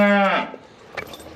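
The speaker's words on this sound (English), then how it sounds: "Few things more terrifying than an angry cow bellowing right in your ear hole." An angry cow lets out a loud, close bellow, a single harmonic moo that swells and then breaks off, followed by a few quieter scuffling sounds.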